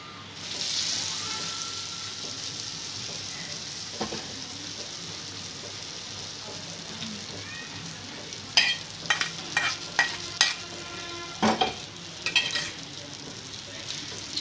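Hot tempering stirred into freshly blended mango and jaggery chutney, a steady soft sizzle and scrape running throughout with a few sharper clinks of the spoon against the pan near the end.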